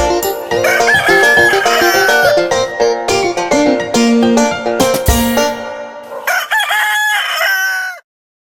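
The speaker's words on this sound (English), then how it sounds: "Sing cock-a-doodle-doo." A rooster crows loudly several times in close succession, its call layered with clucking fowl, ending abruptly.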